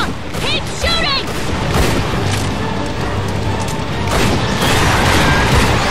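Gunfire in the Bulletstorm shooter game comes as loud, continuous booming volleys and crashes, dense and close throughout, with chirping synthetic effects early on.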